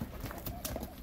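Hooves of a white-maned horse for sale clip-clop in a few quick close steps, partly under someone speaking.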